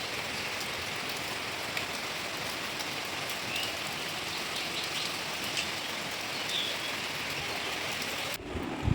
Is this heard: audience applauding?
no